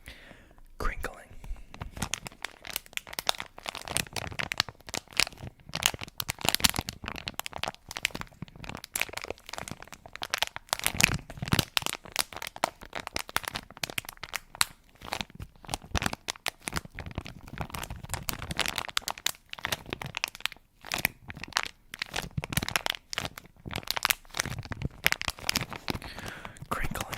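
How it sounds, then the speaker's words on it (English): Material crinkled and crumpled by hand close to the microphone in an ASMR session: a long, dense run of crisp crackles and rustling bursts at an uneven rhythm, with soft whispering in places. "Crinkling is a bit more of an art form, you know."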